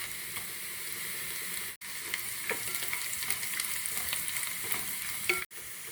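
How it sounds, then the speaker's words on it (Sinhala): Onions, garlic, mustard seeds and fried peanuts crackle and hiss in oil for pol sambol, a continuous close sizzle with occasional spoon scrapes and short pops, cutting out briefly twice. "දැන් මේ ලුණු ටික තෙලේ තරමක් බැදෙන්න ඕන"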